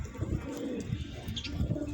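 Domestic pigeons coo in a loft, soft repeated low throaty calls rolling in several overlapping bursts at moderate distance over a faint background hum.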